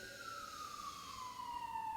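An emergency vehicle siren passes at a distance outside, a faint, slowly falling wail drifting under quiet room sound.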